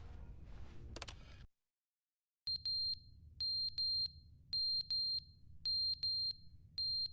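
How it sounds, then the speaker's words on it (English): A high-pitched electronic alarm beeps in short repeated bursts, usually in pairs with short gaps, loud and clear after a brief silence, with no talking over it. "Yeah, there's an alarm going off."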